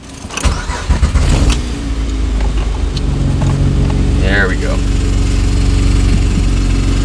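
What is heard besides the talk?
Acura TL engine starting after supercharger install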